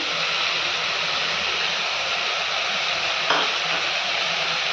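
Carrots, beetroot and peas for Mumbai-style pav bhaji are stirred in a pan, a steady close sizzle and scraping hiss with one brief utensil knock near the end.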